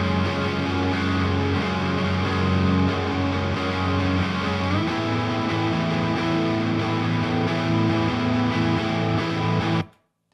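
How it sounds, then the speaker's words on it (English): Distorted electric guitars play a dense, continuous riff without tape saturation, loud and steady for about ten seconds before cutting off abruptly into silence. "The guitars on their own sound like this."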